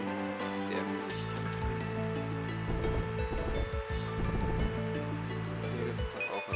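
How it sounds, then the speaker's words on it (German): Steady rain hisses on Route 212 in Pokémon Platinum, a continuous wash of noise under looping in-game route music, with no talking. "Und wir haben Regen"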